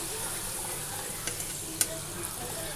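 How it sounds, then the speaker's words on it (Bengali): Papad crackles and sizzles in hot oil in a wok, a steady quiet frying hiss with a few sharp pops and scrapes, no talking. "কড়াই তেল দিয়েছি পাঁপড় ভেজে দেই দুটো"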